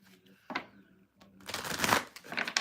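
Tarot cards are shuffled up close, starting with a couple of brief riffles and building into a longer, rapid papery flutter with snapping cards toward the end.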